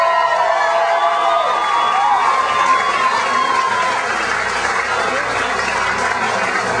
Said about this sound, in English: Robin Carnahan, give her a big round of applause